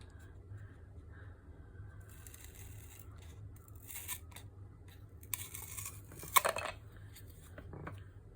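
Scissors snip through paper while cutting out shapes for small craft safety pin charms, a few quiet snips and rustles, with one sharper close cut near the end, no talking.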